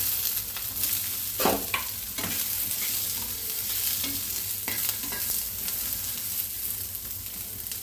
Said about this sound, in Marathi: कांदा चांगला फ्राय होऊन घेऊ